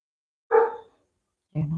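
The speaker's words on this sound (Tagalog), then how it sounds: "Ayun ang aso na naman mag-ingay." A dog at night gives a single short bark, then a second bark after a pause of about a second, against silence.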